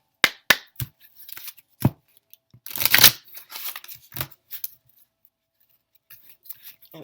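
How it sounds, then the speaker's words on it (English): A few sharp riffling bursts, then a longer rippling flurry like a deck of cards being shuffled, with quiet pauses between. "I want to give these a good shuffle."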